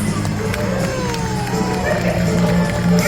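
A crowd at a Singapore Zoo pet show cheers loudly and continuously, a dense, close wash of shouts and excited voices that builds slightly toward the end.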